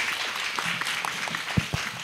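Audience applause after a lecture by an international finance cooperation ambassador in a Korea University leader lecture series, a steady broad patter of clapping with a couple of louder nearby claps toward the end.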